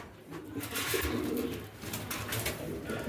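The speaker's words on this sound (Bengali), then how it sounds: "আরেক জোড়া কবুতর দেখাইতেছি।" Pigeons, including a white Tennis and a red-eyed Pakistani pair, coo softly and steadily nearby, a low, faint burbling that carries on without pause.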